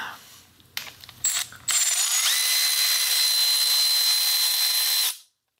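A power tool, likely an impact or air ratchet, spins a bolt off a 2002 Cadillac Deville DTS engine during motor removal, beginning with a few short bursts and then a steady loud whir of about three seconds.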